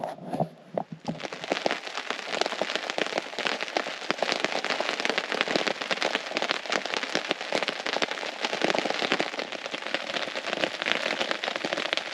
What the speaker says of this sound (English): it's been absolutely pouring down all night